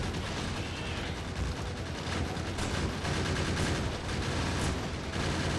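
Gun turrets in Factorio Space Age fire steadily at worms, a dense, continuous rattle of rapid automatic shots with heavy low rumble, loud and close throughout with no break.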